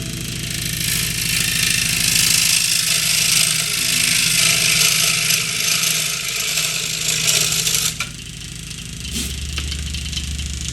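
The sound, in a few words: power tool cutting out a model ship part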